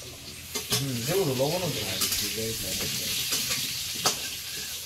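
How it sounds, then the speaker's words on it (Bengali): Spices with turmeric and vegetables fry in a pan with a steady, close sizzle. Occasional scrapes and clicks of stirring come through while a person talks over the cooking. "ভালো করে এবার এটা ভাজাতে দেখি কড়া করে"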